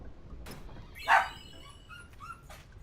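A dog barks in Final Fantasy X, a single sharp yelp standing out near the middle over a low murmuring game background, with faint higher calls trailing off afterward.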